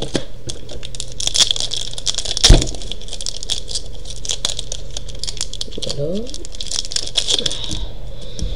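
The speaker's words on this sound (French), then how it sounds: "Maintenant je vais vous ouvrir le second." A plastic foil wrapper on a trading card booster pack is opened up close, with crinkling, rustling and a sharp tearing crack partway through, amid a quiet background.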